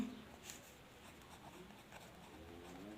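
Quiet marker or chalk scratching across a board as maths is written out during a Class 10 geometry lesson, a soft steady stroke texture with no talk.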